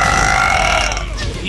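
A long, loud, drawn-out burp from a woman, close up and continuous for over a second, with no words spoken.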